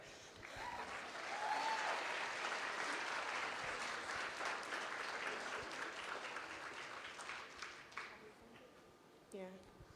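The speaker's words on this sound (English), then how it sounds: "we'll just give her another round of applause" An audience at a cosplay contest masquerade claps for the novice runner-up award, with sustained applause that gradually thins out and ends in scattered claps.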